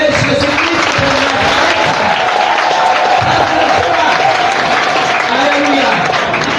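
A church congregation claps and cheers for Jesus Christ in a steady, dense wash of applause lasting throughout, with voices mixed into the crowd noise.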